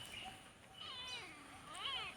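A cat gives a few faint, drawn-out meows with rising and falling pitch, heard from a distance against a low background hum.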